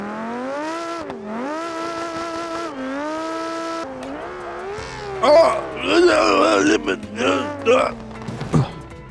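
Tuned inline-five engine on a car in the BeamNG driving game, revving up and down in rising and falling sweeps like a sport bike, loud and close, with a later burst of tire squeal and rougher throttle.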